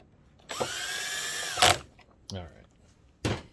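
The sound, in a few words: power drill driving screws into JVC projector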